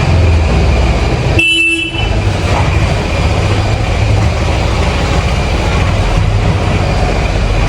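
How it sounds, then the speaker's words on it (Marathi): Constant roar of dense road traffic in India with a car horn honking loudly once near the start, the engine rumble and hiss carrying on unbroken afterwards. "कंटिन्यू गाड्यांचा आवाज"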